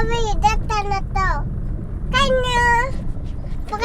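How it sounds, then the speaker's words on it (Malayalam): A cat meows repeatedly at close range: short rising and falling cries in quick succession, then a longer drawn-out meow, heard over a low rumble of night traffic. "പൂച്ച പോയി."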